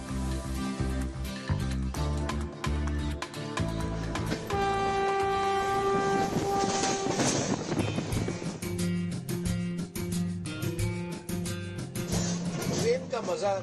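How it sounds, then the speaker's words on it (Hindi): A train running on rails during a journey, heard as a steady rumble with rhythmic clatter, plus a sustained tonal passage midway that could be a horn or music; no clear talk in the clip. "बहुत दिनों के बाद ट्रेन का सफर है"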